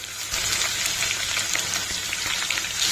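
Ginger garlic paste frying in a pan while cooking cabbage Maggi noodles gives a steady, close hiss and crackle, with faint scraping at times and no talk.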